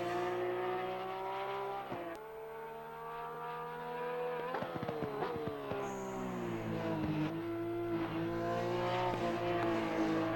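Porsche GT3 R race car in Assetto Corsa Competizione at Indianapolis, its engine droning loud and steady throughout, with revs dipping and climbing as the throttle is fed through corners and brief bumps break the tone.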